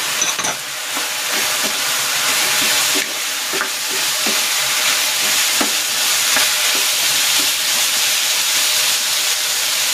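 Carrots and wood ear mushroom for Chinese spring rolls stir-fry in a hot pan with a steady loud sizzle and hiss, while a utensil scrapes and stirs in repeated clicks.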